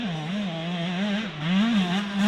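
A dirt bike engine drones at a fairly loud, steady level, its pitch wavering up and down as revs shift around a jump.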